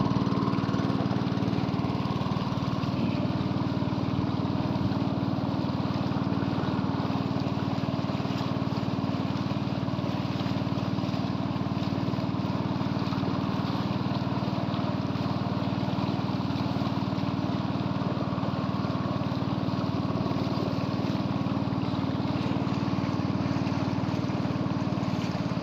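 Steady boat engine droning without a break, a loud low hum on the water with no talking.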